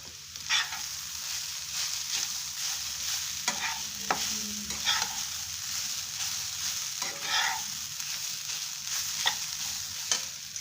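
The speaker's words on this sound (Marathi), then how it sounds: "ड्राय फ्रूट्स परतून झाले की त्यात नारळ टाकून घ्यायचा आहे आपला।" Dry fruits and coconut roast in a pan for strawberry modak filling, with a soft continuous sizzle and repeated scraping strokes of a stirring spoon at an unhurried pace, close by and alone.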